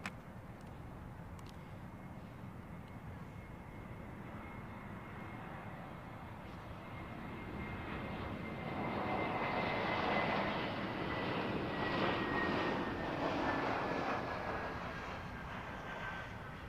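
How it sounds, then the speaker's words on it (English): A Beechcraft propeller aircraft at London Heathrow Airport passes by, a broad engine rumble that swells to a peak midway and slowly fades, with a thin descending tone drifting across. "Is that some kind of a beechcraft or something?"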